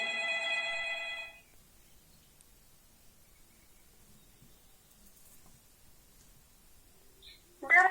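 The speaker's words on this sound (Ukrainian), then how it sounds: "Ой, дзвінок, то, мабуть, ваша мама дзвонить." A telephone rings with a bright electronic trill for about a second, then quiet room tone follows until a short sound at the end.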